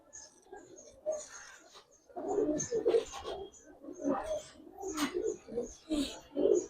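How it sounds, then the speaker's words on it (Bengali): Giribaz pigeons, including a male, coo in soft, throaty bursts that repeat irregularly at close range, with faint chirps between them and no talk. "অনেক সুন্দর একটা নর কবুতর।"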